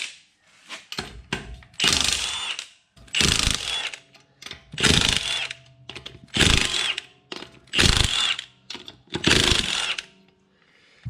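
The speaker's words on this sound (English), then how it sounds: "the Milwaukee rattle gun." Milwaukee impact wrench, a rattle gun, on a Toyota Hilux wheel during steering rack and inner tie rod work: six loud bursts of rapid hammering rattle, each about a second long, separated by short pauses.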